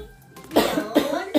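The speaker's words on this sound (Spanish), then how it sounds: "Ay, qué tos." Three sharp human coughs in close succession, loud and near, each a short harsh burst after a brief quiet lead-in.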